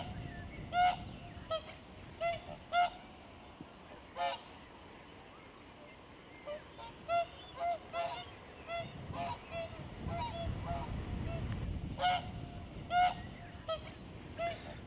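Geese honk repeatedly in short, loud calls over the Little Ouse at RSPB Lakenheath sanctuary, with a few nearer and some farther off above a low wind and water rumble.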